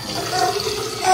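Water running from a tap into a glass for a drink at home, a steady close hiss of flowing liquid with a rising fill at the end, brief and fairly loud.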